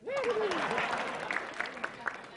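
Audience applause at an Indonesian stand-up comedy show, a dense burst of clapping with crowd noise that starts loud and slowly thins over a couple of seconds.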